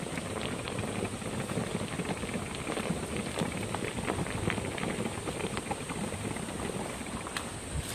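Coolant bubbling out of a Camaro engine, a steady close, faint fizzing and gurgling froth that runs on without pause.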